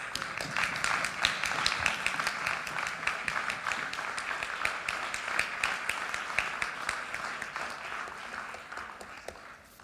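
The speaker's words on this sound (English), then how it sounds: "the inimitable Baz Luhrmann with a well-deserved round of applause." Audience at a Delhi press conference breaks into steady applause, many hands clapping in a dense, even patter that holds throughout at moderate distance and eases slightly near the end.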